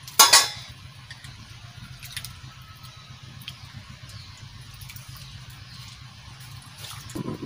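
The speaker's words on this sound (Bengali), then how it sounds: "এবারটা আমি ডালটা ভালো করে ধুয়ে নিই।" Lentils (dal) being washed in water in a kitchen, with an initial sharp clink of a metal pot followed by a steady low swishing and sloshing that continues quietly under faint clatter.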